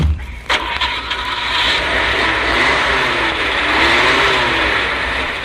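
A car engine revving and driving off as a comedy sound effect, loud and sustained after a sharp opening hit, rising and falling in pitch.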